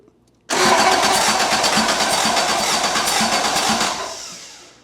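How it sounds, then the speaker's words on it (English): A Toyota 4AGE 20V Black Top engine in an AE86 cranks on its starter in a steady, rapid chugging rhythm on a first start attempt, loud and close, tapering off near the end without catching. "Well, it cranks. It's making cranky noises."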